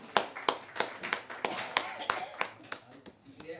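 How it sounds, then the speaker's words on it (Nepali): Hands clap to welcome a speaker at a training and interaction program. The claps are sharp and distinct, landing in a quick, fairly even rhythm that sounds like a small group rather than a full crowd. "उहाँलाई जोरदार तालीले स्वागत गरिदिनु हुनुको निम्ति हार्दिक अनुरोध गर्छु"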